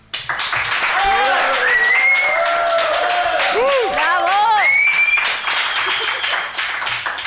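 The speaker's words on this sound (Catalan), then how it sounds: "Un fort aplaudiment per als companys que, la, que gestionen aquest espai" Audience applause for the managers of a climbing wall space, lively clapping from a small crowd that runs steadily throughout, with voices and tonal sounds rising over it in the middle.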